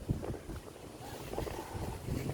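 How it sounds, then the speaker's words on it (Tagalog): Strong wind roars and buffets the microphone in gusty, low rumbling bursts, loud and close throughout. "Grabe, ang lakas ng hangin guys."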